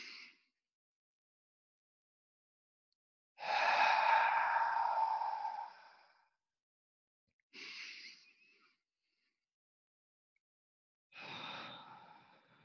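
Deep yoga breaths during a hatha class come through as three separate airy breaths, one long and two shorter, each followed by near silence and spaced a few seconds apart.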